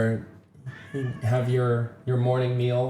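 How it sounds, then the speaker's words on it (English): A house cat meows loudly several times, with drawn-out, wavering cries close to the microphone, while a person talks at the same time. "That was my cat meowing."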